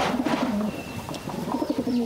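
A pair of pigeons, one white, coo in repeated low throaty phrases close by, with faint chirps and background rustle and no talking.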